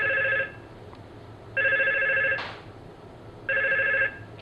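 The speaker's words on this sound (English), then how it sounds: "When the phone is on the hook as it is now, it controls the ringtone of the phone." A Yealink T22 desk phone rings three times, each electronic ring burst about a second long with steady tonal harmonics, separated by short pauses, close and fairly loud with no talking.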